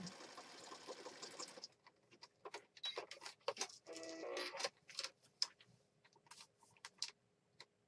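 Sewing machine stitching through a junk journal, a steady buzzing run at first, then a series of short start-stop bursts of stitching with brief pauses, moderately close.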